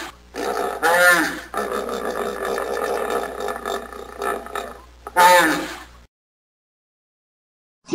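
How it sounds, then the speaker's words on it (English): A hippopotamus gives deep, rumbling grunts, one burst at the start and another near the end, with a lower growling rumble between, loud and close before falling silent. "Hippopotamus."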